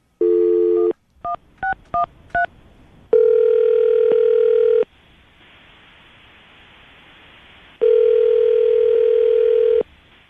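A series of electronic telephone tones: a long tone, several short beeping dial presses, then two long sustained ringback tones separated by a quiet hiss.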